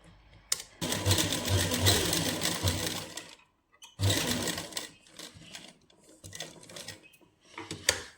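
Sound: sewing machine stitching a seam on lace

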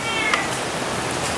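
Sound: mother cat meowing

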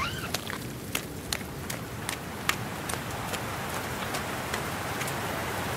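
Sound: heavy rain in an audio drama

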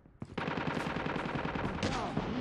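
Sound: sentry gun firing in Call of Duty Mobile video game

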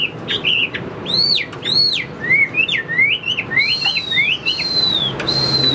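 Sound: hwamei (Chinese melodious laughingthrush) singing

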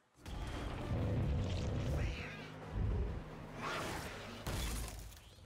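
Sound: cat meowing in Arcane episode

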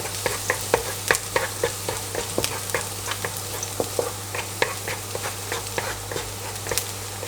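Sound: garlic stir-frying in a pan

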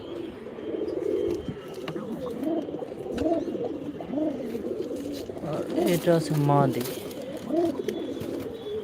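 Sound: pigeon cooing like a male

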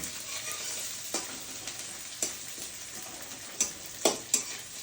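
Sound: onions frying in oil with bay leaf

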